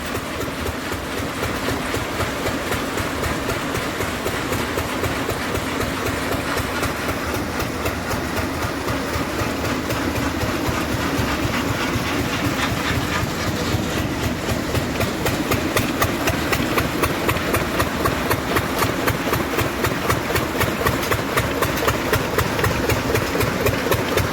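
A peanut thresher and opener machine runs steadily outdoors, giving a continuous mechanical engine drone with a fast, even rhythmic pulsing that grows slightly louder toward the end, with no talking.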